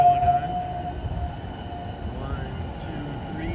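A light rail train rumbles at a Green Line station in Saint Paul, Minnesota, a steady low drone with a faint tone early on and a person talking over it.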